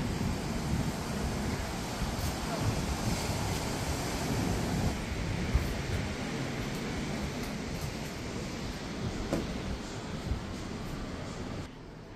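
Ocean surf rolls below a Cancun hotel room at Paradisus Cancun, heard as a soft, steady wash of waves mixed with light wind noise, distant and fairly faint with no talking.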